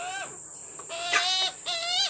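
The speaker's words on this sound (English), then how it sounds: "a little magpie flew over when he saw me" A small Australian backyard magpie calls as it flies overhead, giving three clear whistled calls with rising and falling tones, fairly close against a steady high background hiss.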